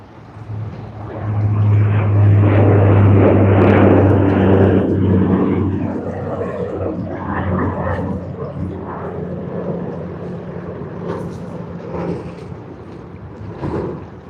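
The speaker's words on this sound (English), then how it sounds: "Just a light departure out of Sydney Airport from runway 16R" Light aircraft departing Sydney Airport from runway 16R, a loud propeller engine drone that swells early, holds strong, then eases as it climbs away, with wind buffeting the microphone.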